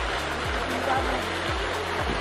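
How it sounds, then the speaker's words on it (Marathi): Water pours from a cow-mouth stone spout into the lake at Lonar crater, a constant close rushing splash with a low gurgling pulse about every half second. "हे पाणी जे बघू शकता या गायमुखाद्वारे असं इथून तळ्यामध्ये चाललेलं आहे"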